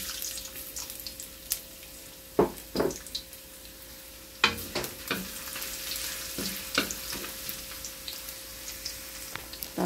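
Ginger frying in hot oil for a squash and string bean coconut stew with shrimp, a soft continuous sizzle broken by several sharp spatula scrapes and clacks against the pan, no talking.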